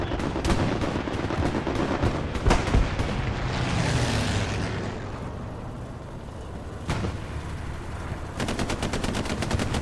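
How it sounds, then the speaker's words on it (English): Dense gunfire and rocket blasts from a video game scrim on Foy, with rapid machine-gun bursts, a heavy boom near the start and another mid-clip, and a steady rumble of combat between them. "Rockets out in the middle."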